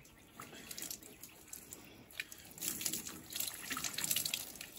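Water splashes and runs over a dog during a rinse outdoors on a homestead, an uneven stream that grows louder and more continuous toward the end, with small drips and spatters.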